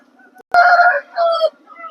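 A kaki nemali-coloured rooster at a Vijayawada rooster market lets out a loud, close crow in two strong bursts with a short break between, over quiet market noise.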